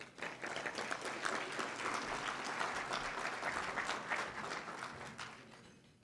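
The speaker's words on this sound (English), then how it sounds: "give both prospectively a round of applause when they approach" Applause from a gathering for volunteers at a community service event, steady clapping from a crowd lasting several seconds before tapering off at the end.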